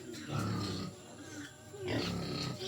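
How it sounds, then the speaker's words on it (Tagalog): A baby pig grunts in short, low bursts close by on a rural property, with people talking nearby. "May pig. Baby pig."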